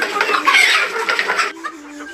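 Local, Tiger-breed and other hens kept inside a netted coop cluck and chatter close by, a busy overlapping burst that thins into a few softer calls.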